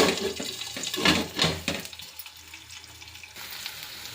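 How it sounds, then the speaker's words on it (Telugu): Green chillies frying in a pan for brinjal tomato chutney, loud crackling sizzle with stirring scrapes, bursts of spatter early on that settle into a softer steady hiss. "చూసారా, పచ్చిమిర్చి ఇలా బాగా వేగాలి"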